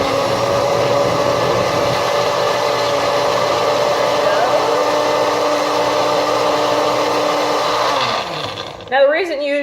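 A blender mixing a banana kale smoothie, a loud, steady motor roar close by that winds down near the end as a voice starts speaking.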